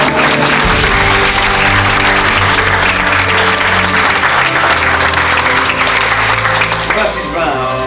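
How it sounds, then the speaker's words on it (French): Audience applause after a public thesis defence, a loud, dense burst of clapping filling the room and sustained steadily for several seconds with voices mixed in. "Ça vous fait applaudir une deuxième fois."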